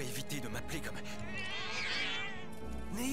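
Cats meowing in the video game Final Fantasy 7 Remake, drawn-out wavering mews over steady game background sound, with speech running alongside.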